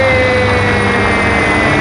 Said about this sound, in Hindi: ये इमरान खान का हेलीकॉप्टर ऊपर से गुजर रहा है